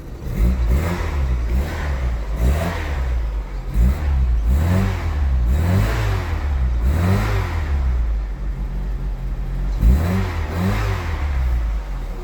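An Austin Ambassador Vanden Plas with a stainless steel exhaust revs repeatedly, each blip rising and falling in pitch over a steady idle, close by and moderately loud.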